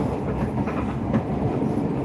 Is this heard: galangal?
no